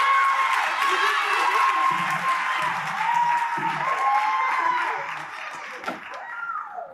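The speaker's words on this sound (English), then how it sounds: "please stand up for a round of applause" A school audience at a middle school spring concert claps and cheers in a steady wash of applause that thins toward the end, with voices mixed in.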